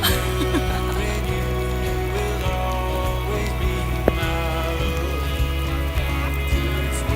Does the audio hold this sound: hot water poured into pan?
no